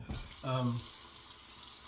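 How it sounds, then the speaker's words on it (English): Tap water runs steadily into a sink, warming up for a shave, as a continuous close hiss with a brief low tonal hum partway through. "Warm the water up a little bit."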